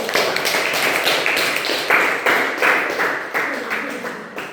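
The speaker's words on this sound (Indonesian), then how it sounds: "beri tepuk tangan untuk diri kita sendiri" A primary school class claps hands together in a classroom, a dense busy patter of many small claps lasting several seconds with faint voices mixed in.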